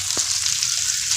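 Brinjal, small striped eggplants, and tomato sautéing in a pan, giving a steady bright sizzle and frying hiss with a faint stirring clatter, close and continuous.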